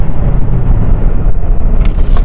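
A 2018 Toyota Aqua hybrid, also sold as the Prius C, accelerates hard, giving a loud, steady engine and road roar heard from inside the cabin with no talking.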